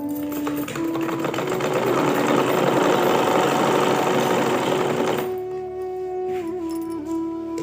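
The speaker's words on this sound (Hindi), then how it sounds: "यहाँ से भी हम एक पैर का मार्जिन देते हुए सिलाई लगा देंगे।" Continuous close whirring of a sewing machine stitching a pillow cover, running loud and steady for about five seconds before it stops, leaving a faint hum and light handling sounds.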